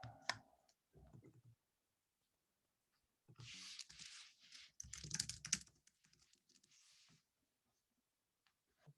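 Bursts of keyboard typing, quick clusters of key clicks with brief pauses between, fairly close and moderate in volume, no talking.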